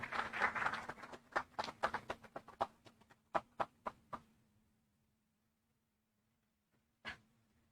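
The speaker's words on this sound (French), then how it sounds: "Au fait, vous n'auriez pas dû m'applaudir." Scattered audience applause at a conference opening thins out to a handful of sharp, separate claps and fades to silence, with one last lone clap near the end.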